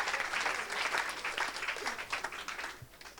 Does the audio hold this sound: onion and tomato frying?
no